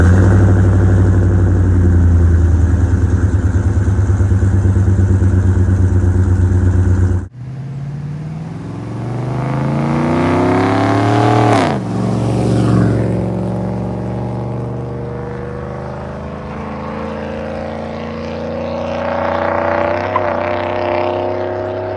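GMC Sierra truck with long tube headers rumbles loudly at idle, then the exhaust swells as the engine revs up and settles into a deep, steady drone.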